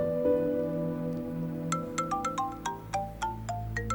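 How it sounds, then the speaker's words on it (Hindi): A phone ringtone plays in a Turkish drama dubbed into Urdu: a tinkling sequence of bright, rapid plucked tones over a low sustained hum, clear and close, with no talk. "करीम का फोन है,"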